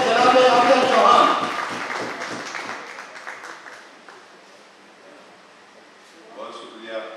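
An audience at a mushaira poetry gathering breaks into loud, dense applause that fades gradually over several seconds to a quiet murmur, with a faint bit of talk near the end.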